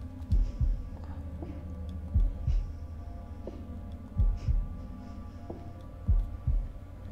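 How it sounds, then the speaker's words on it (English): Heartbeat from the video game The Devil in Me, a slow, deep, thudding double beat repeating evenly over a low hum, loud and alone. "Press X time at the heartbeat."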